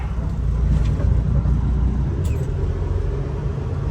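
A semi truck's diesel engine idles and rumbles steadily, deep and close, while it edges back and forth to straighten up in a parking spot at a packed truck stop at night; no one speaks.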